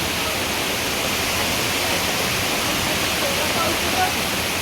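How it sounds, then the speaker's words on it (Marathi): Torrential rain pours down in a constant, loud, dense wash of noise, with runoff water flowing hard and trees bent under the downpour; no clear voice rises above it. "कसलं पाऊस पाणी यायला लागलंय सगळ्या त्या याच्यातनं"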